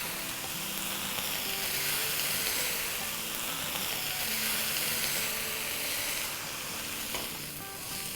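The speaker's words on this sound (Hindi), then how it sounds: "बस ये हमारी वेजिटेबल्स इनफ सॉटे हो गई है।" Vegetables sauté in a hot pan for a Chinese-style chicken chili with noodles, giving a steady, loud oil sizzle with occasional stirring scrapes, close up and continuous with no talk.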